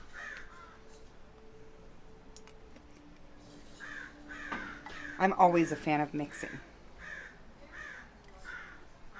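Crows caw loudly outdoors near a backyard offset smoker, a burst of harsh repeated calls in the middle, while people chat quietly beneath and around them.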